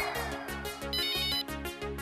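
A mobile phone ringtone plays a repeating, evenly pulsed melodic pattern, loud and close, with no voices over it.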